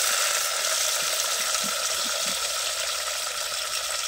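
Onions and tomatoes fry in a pan with a steady, moderately loud sizzle and a few soft low knocks from stirring.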